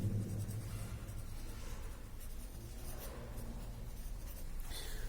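Hand writing a fraction, a soft steady scratching and rubbing of the writing tool that runs quietly on its own for several seconds.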